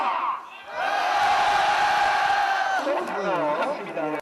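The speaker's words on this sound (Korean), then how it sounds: "전방에 3초만 함성 발사!" A group of new army conscripts and their families roars a sustained collective cheer for about three seconds at an induction ceremony at the Chuncheon 102 replacement depot, loud and unified, then breaking into scattered shouting voices.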